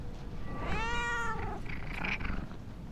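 In The Darkest Files video game, a cat gives one clear, drawn-out meow at close range, with a fainter chirping call just after, over a low steady background hum.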